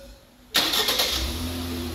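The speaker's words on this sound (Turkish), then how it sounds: "Çalıştırın aracı." A Ford Mondeo engine cranks and catches after LED headlight bulbs are fitted, a sudden loud start that settles into a steady close idle with no talk over it.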